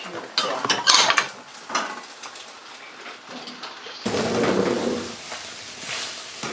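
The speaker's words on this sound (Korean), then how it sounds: "자신이 먹은 밥그릇은 꼭 설거지해 놓는 시어머니." An elderly woman washes her used rice bowl at a kitchen sink, with ceramic and metal clinks and scraping, bursts of running water, and a steadier rush of tap water in the second half.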